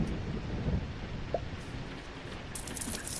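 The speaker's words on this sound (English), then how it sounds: "it doesn't matter that it is raining" Steady rain falls outside with a continuous soft hiss and patter, with occasional low rumbles like distant thunder and a brighter burst of rain noise near the end.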